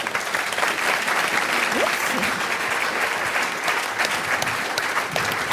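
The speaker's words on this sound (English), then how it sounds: "So a round of applause for them, please." Applause from a standing-room-only crowd at an evening public talk on Pidgin, steady clapping sustained throughout, fairly close and dense with scattered sharper claps.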